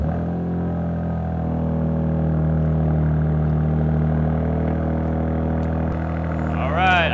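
A Ram RHO truck fitted with an MRT Extreme Mid Pipe exhaust idles after a cold start, holding a steady, deep, loud drone close by with a slight rise at the end.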